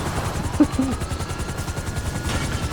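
Helicopters in the GTA 5 Online video game, a steady rotor thump throbbing in rapid rhythm at moderate loudness, with a brief sharp burst near the start and faint voices in the background.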